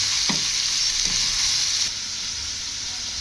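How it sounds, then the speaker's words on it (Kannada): Steady frying sizzle in hot oil, with two quick scraping stirs near the start; the hiss continues evenly and drops slightly toward the end. "ಇದು ಕೂಡ ಸ್ವಲ್ಪ ಎಣ್ಣೆ ಒಳಗೆ ಒಂದು ಎರಡು ನಿಮಿಷ ಫ್ರೈ ಆಗಬೇಕು"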